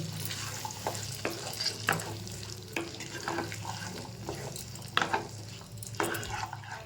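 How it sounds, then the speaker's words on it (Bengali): Chickpeas sizzle and hiss in a spiced pan while a utensil scrapes and stirs, producing repeated clinks roughly every second over a steady, close frying hiss. "এবার আমি এর মধ্যে ছোলাগুলো দিয়ে দিচ্ছি। এটাকে ভালো করে আবার কষাতে হবে।"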